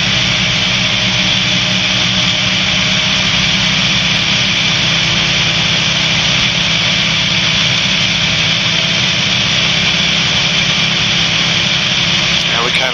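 A light aircraft engine drones steadily and loudly throughout a final approach to landing, an even, continuous hum with little change in pitch.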